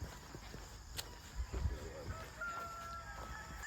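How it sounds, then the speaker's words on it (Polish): Roosters kept in coops crow at sunrise in Bohol, Philippines, a faint, distant drawn-out call rising over quiet outdoor ambience with light footsteps nearby. "Tu mamy pełno domków kogutów."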